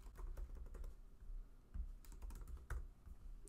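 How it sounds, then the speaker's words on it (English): Quiet, close typing on a computer keyboard, a rapid run of soft key clicks with brief pauses, alone without talk. "I'm just going to type in my daughter's names."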